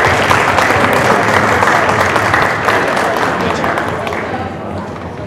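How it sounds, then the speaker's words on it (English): A crowd at a school staff training event gives loud, sustained applause, with thick, steady clapping and some crowd noise that tapers off slightly toward the end. "Let's give a resounding round of applause in case anyone's out there"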